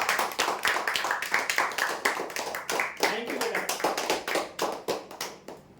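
Applause from a crowd greeting prize draw winners, with many claps overlapping in a loud, continuous burst that holds steady throughout.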